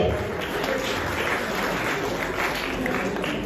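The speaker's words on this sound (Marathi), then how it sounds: "जोरदार टाळ्या मंडळी" Audience clapping at an award ceremony, a steady dense round of applause from a crowd, continuous and fairly loud throughout.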